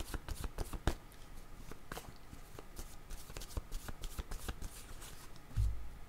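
A deck of cards is shuffled for a card reading, giving quick riffling flutters and taps close up. Shuffling continues steadily, ending with a soft thump.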